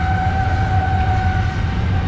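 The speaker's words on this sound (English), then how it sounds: "Got the trains going again today." Trains rumble past on nearby tracks, a steady low roar with a faint high tonal whine running throughout, loud and continuous with no talking.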